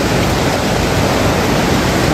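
A monsoon-season waterfall in North Sikkim roars close by, a loud, dense, unbroken rush of falling water that fills the whole moment.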